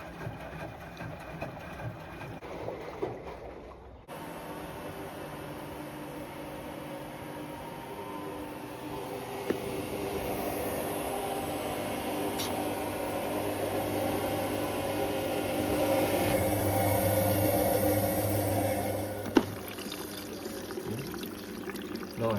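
A Bosch Serie 4 WAN28001 washing machine running its final rinse cycle, with water flowing through the softener compartment. A steady, close hum and watery rush build slowly and run on without any voices.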